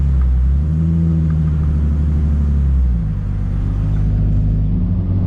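A high-horsepower Toyota Supra drives along a road past high-end dealerships, its engine a steady loud low rumble, easing slightly in pitch partway through.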